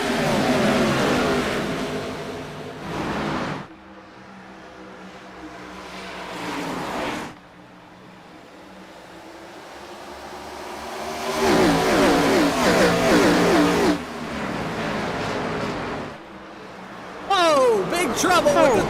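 Race cars taking the green flag at Iowa in a sim racing game: a pack of engines roaring and revving at close range in surging waves, with commentary voices over them.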